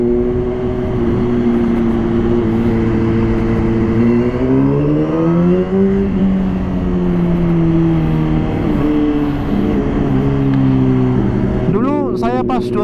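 A Honda CBR 600 RR HRC Edition sportbike being ridden on an evening road, its inline-four engine droning steadily and rising and falling in pitch as the rider shifts and accelerates, with wind noise and a brief spoken voice near the end.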